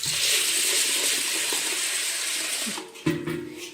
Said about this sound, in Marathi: मी ह्याच्यामध्ये आता हे पाणी ओतलंय, तर चांगले 2 वेळा मी शाबूचे तांदूळ स्वच्छ धुवून घेणार आहे।